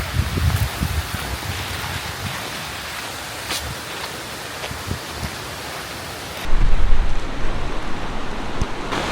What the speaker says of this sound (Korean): 아, 비 너무 많이 온다